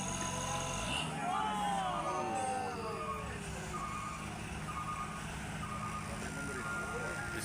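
Reversing beeps from a truck backing up at a roadside recovery of an overturned truck with an excavator helping, steady repeated tones over engine rumble and background voices.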